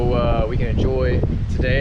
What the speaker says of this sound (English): I apologize for the wind; it's a little windy